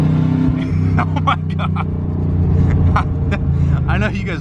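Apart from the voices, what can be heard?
Corvette engine revving loudly with no exhaust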